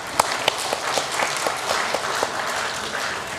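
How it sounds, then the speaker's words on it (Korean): A church congregation applauds together, a dense, steady patter of many hands clapping at an even level with a few sharper claps standing out near the start. "자, 박수 한번 하겠습니다."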